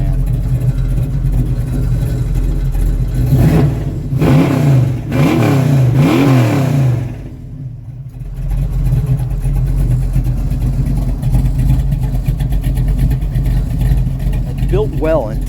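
A 1979 Camaro Z28 V8 rumbling at idle, with several throaty revs swelling and falling in the middle, a brief dip, then a steady loud idle again while someone talks over it.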